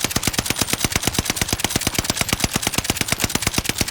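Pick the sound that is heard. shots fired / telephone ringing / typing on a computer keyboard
shots fired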